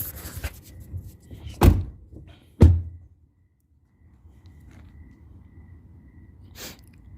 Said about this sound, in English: Close all the doors.